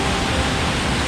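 Small waterfall in the hills near Manali, heard as a steady, even rush of falling water, close and fairly loud with no voices.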